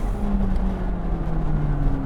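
McLaren LT supercar engine winding up past 8,000 RPM, a steady loud drone with a rising tone sustained throughout, close and unbroken.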